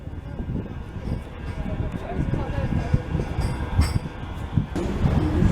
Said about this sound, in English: Here is our Piccadilly bound tram.